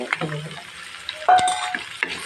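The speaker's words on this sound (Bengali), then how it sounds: "সিমগুলো ঢেলে দিলাম" Yardlong beans poured into a hot pan with browned garlic paste and shrimp, giving a short sizzle burst and clatter of utensils against the pan, close and brief.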